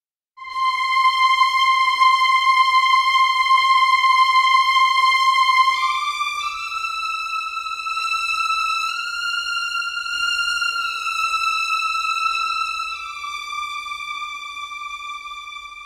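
VISTA Chamber Strings sample library plays a slow, high legato line, long sustained notes gliding smoothly into one another with a soft, clean tone, alone and steady after a quick fade in.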